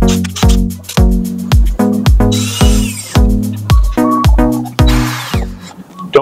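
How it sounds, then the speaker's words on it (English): A power driver runs 3/8-inch screws into a plastic PEX arch base in a quick series of short, loud whirring bursts with brief pauses between them. "now we can screw them in place with the shorter screws"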